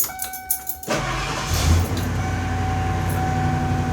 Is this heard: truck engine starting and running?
yes